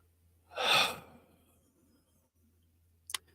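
A meditation leader draws one deep, audible breath at an evening prayer gathering, a soft breathy swell near the microphone that fades into quiet, followed by a faint click.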